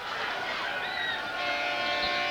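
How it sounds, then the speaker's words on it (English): A stadium horn blares at a rainy 1995 high school football game between Parkland and Central Catholic, marking the last play of the third quarter: a sustained tonal blast over steady crowd and rain noise. "You hear the horn."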